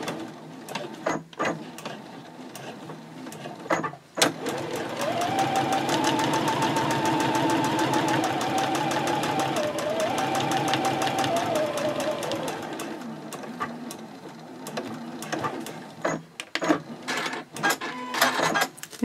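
A sewing machine quilts straight lines through a small backpack card holder at a 3.4 stitch length, running in a steady, rapid whir for several seconds, with short bursts and clicks before and after for backstitching.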